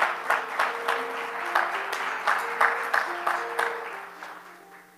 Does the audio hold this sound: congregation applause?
yes